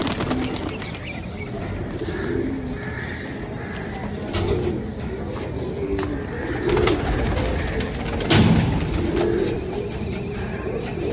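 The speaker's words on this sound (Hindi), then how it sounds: "ये हमारे काली कड़ी वाले कबूतर जी।" Pigeons coo softly in a loft of homing pigeons, with a few bursts of wings flapping nearby and occasional soft bird calls over a low, steady background.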